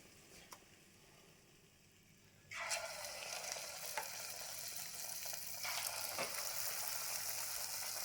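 Potato bajji fritters sizzle in hot oil, the frying hiss jumping louder as more batter goes in, with a few faint clinks.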